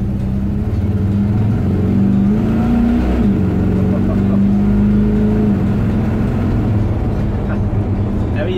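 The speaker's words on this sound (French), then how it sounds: "Hop, j'en profite pour faire une petite accélération" A Chevrolet C10 pick-up truck accelerates nearby, its engine note rising in pitch then holding steady before easing off, with someone speaking over the engine.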